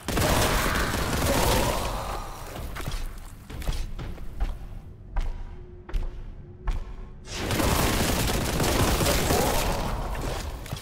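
Plasma gun fire in the Warhammer 40K: Boltgun video game: dense, loud bursts of blasting at the start and end, with a sparser run of sharp separate shots and thuds in the quieter middle.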